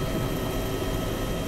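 A helicopter flies in a video game, its engine roar and rotor drone a steady, dense wash that holds unbroken at constant loudness.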